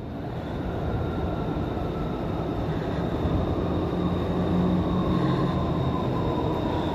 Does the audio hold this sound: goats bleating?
no